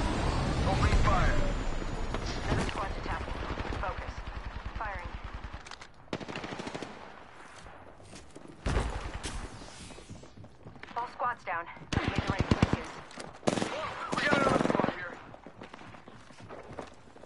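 Rapid automatic gunfire rattles in Apex Legends, bursts of sharp shots broken by pauses, with a game voice calling out in places and clicks and movement sounds between volleys.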